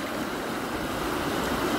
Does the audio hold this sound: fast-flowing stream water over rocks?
yes